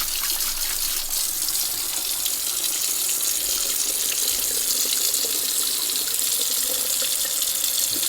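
An old roughly 100-year-old 1920s Akron 103 lantern spout is rinsed under a running tap, a steady close hiss of flowing water filling the clip with no talking.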